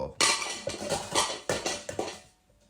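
An enamel pot falls and clatters on a hard floor, a loud close metallic crash followed by several bouncing clangs and rattles that fade out.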